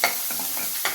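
A paste is stirred into a sizzling tempering of spices in oil in a pan. The result is a loud, continuous frying hiss broken by a few rhythmic stirring scrapes, heard close with no voices.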